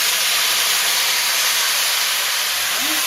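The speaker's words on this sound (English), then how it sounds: "we're going to add in our 3/4 cup of sherry" Sherry pours into a hot pan of flour-coated vegetables and hisses in a loud, steady sizzle that fills the whole moment without a break.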